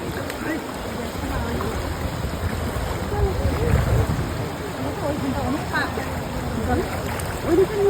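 River current at Agradwip flows with a broad, continuous rushing wash, moderately loud and steady, while people talk over it throughout.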